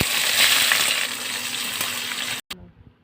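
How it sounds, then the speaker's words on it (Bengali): Onion frying in oil with cumin and bay leaf, a loud, close, steady sizzle that fades slightly, then cuts off abruptly near the end, leaving a quieter residual hiss. "পেঁয়াজটা ভাজা ভাজা হয়ে গেছে,"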